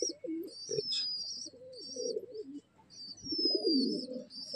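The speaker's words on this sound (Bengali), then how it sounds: "বিশাল ছটপটে পায়রা।" Large, lively male pigeons coo nearby in a series of soft, throaty, rolling calls with short pauses, while thin chirps sound faintly in the background.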